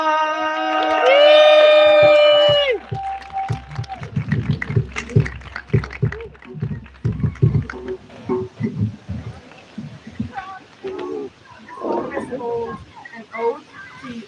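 A live audience at an open mic event cheers, whoops and shouts for the next performer, a loud sustained roar easing into scattered yells and claps, with a host's amplified voice speaking over the start.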